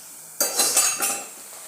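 Chopped ivy gourd is tipped into a pan of fried onions and green chillies and stirred, giving a short burst of clattering and scraping with a light sizzle that fades quickly.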